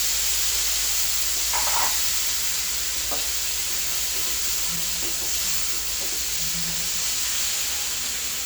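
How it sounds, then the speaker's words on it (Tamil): Soft sizzling from kadai paneer ingredients with coriander frying in a pan, a steady low hiss with a few faint clinks of a utensil stirring. "ஃப்ரை பண்ணி கொஞ்சம் கொத்தமல்லியும் போட்டு ஃப்ரை பண்ணிட்டு"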